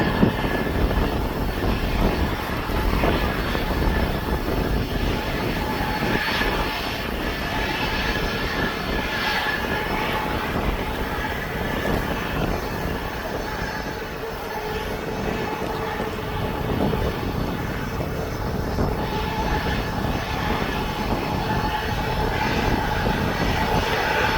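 A Jet2.com jet airliner at East Midlands Airport gives off a steady, loud engine roar that holds evenly for the whole stretch, with no voices over it.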